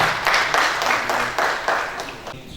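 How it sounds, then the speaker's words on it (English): A crowd at a university project event claps steadily in bursts of applause, fairly loud and close, with no talking over it. "Round of applause for him."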